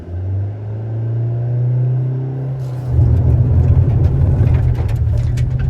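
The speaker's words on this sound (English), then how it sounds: "revving the motor" A stationary Hyundai Verna SX sedan, 2025 model, idles with a low steady hum, then its engine is revved hard, jumping into a loud, rough roar up close that keeps going to the end.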